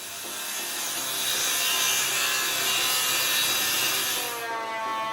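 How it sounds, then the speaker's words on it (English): Glued wooden boards are sawn to width with a power saw, giving a continuous loud, close, rasping cut that holds steady for several seconds and then eases off, with no talk. "Then I cut it to desired width."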